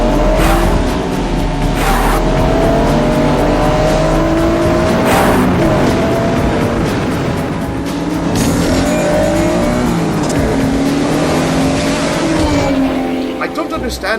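Race cars roar past at speed, loud engine whines rising and falling as each one passes, with bursts of revving over a constant din; a voice talks over the noise.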